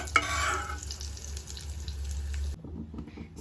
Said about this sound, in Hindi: सेम घी में मैंने अराउंड 1 कटोरी सूजी यहाँ पे ऐड किया है।